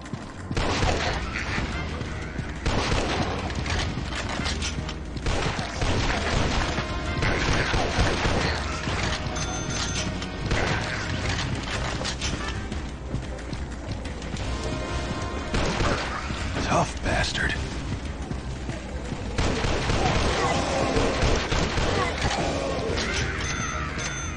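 Gunfire in an Android shooter game, Mortal Kombat-style action, played on an Android TV box: dense, continuous bursts of shots and crashing impacts at steady loudness, with someone talking over the game.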